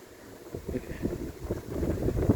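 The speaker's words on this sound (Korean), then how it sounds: "이상하게 여기 올라올 때마다 바람이 많이 불어요" Strong wind buffeting the microphone on a hilltop pavilion overlooking Iksan city in Baesan Park, a steady rumbling gust that swells louder toward the end.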